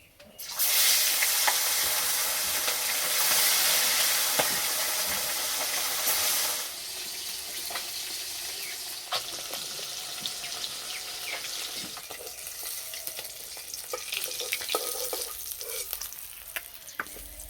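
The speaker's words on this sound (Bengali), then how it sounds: "বাকি মাছগুলো ভেজে নেব।" Bata fish fry in hot oil in a pan, a loud dense sizzle that settles into a softer crackle with scattered pops and scrapes, heard close and without voices.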